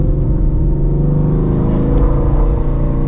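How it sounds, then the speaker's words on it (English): A Shelby GT350 on drag radials launches in first gear, its engine roaring loud and close in a dense, sustained low growl that holds steady throughout. "Do a first gear hit."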